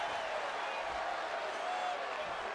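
Wrestling arena crowd in WWE 2K24 getting riled up, a steady, moderately loud wash of cheering and murmur that holds evenly for a couple of seconds with no clear peaks, heard alone.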